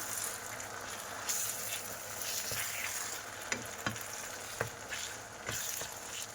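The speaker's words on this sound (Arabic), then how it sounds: "غادي نخلط البيضات ديالي هنا نديرهم هكا" Eggs with asparagus are stirred in a frying pan, a low steady sizzle with a few distinct spatula taps and scrapes toward the end, close but quiet, without speech.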